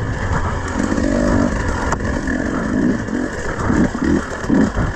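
Enduro motorcycle engine droning and pulsing close by as the bike rides over logs on a single-track trail, throttle rising and falling without revving hard.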